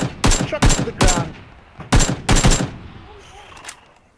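Gunfire in a PUBG match, delivered as sharp bursts of automatic shots in clusters with short gaps, loud and close, then a few fainter distant shots trailing off.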